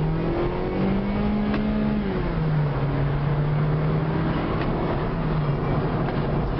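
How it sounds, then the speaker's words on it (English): A 2012 Mazda 3i Touring car drives along and downshifts, its steady engine hum dropping in pitch midway. The road noise is continuous and moderately loud, with no voices. "It downshifts straight down without any problems."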